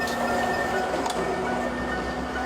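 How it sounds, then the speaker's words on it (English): A train crosses Nine Arches Bridge near Ella, Sri Lanka, giving a loud, sustained rumbling clatter with a steady mechanical drone and faint tonal whine, close by and without pause. "As you can see, the train is super loud."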